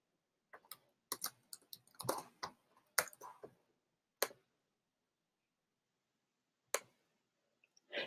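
Keys tapped on a computer keyboard in short irregular bursts of clicks, close and fairly quiet, with brief pauses and a few isolated keystrokes near the end; no talking.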